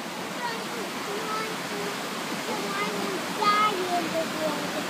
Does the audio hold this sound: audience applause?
no